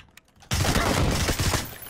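Gunfire erupts in the battle royale game PUBG, a sudden loud burst of shots filling the rest of the moment after a quiet lead-in, with dense rapid reports rather than a single blast.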